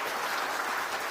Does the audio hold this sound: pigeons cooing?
no